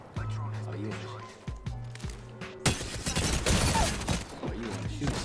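Video game gunfire crackles in a dense burst of rapid shots midway through, with a voice talking over the sound and other game noises around it.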